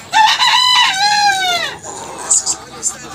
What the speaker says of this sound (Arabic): اهي الفرخه اهيت انا ماسكها